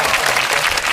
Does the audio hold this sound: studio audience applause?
yes